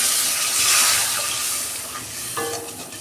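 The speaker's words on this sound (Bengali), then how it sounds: "এই যে নারকেলের দুধটা দিয়ে দিচ্ছি" Coconut milk poured into spice paste frying in a pan for a prawn malai curry, a loud steamy hiss and sizzle that eases off, then a brief bubbling clink near the end.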